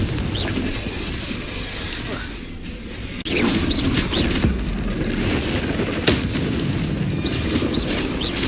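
A Confringo blasting spell detonating in Hogwarts Legacy, a loud boom that cuts in abruptly and leaves a dense, sustained rumble with bright crackling bursts, amid constant game background noise.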